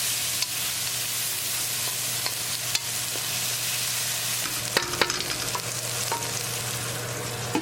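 Tomato is stirred into browned onions in a frying pan, with a steady close sizzle and scattered scraping clicks from the spoon and no talking.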